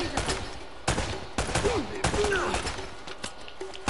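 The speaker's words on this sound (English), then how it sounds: "Stop shooting." Gunfire in the video game Uncharted: Drake's Fortune, sharp repeated shots cracking at irregular intervals over game ambience, with brief character voices heard between them.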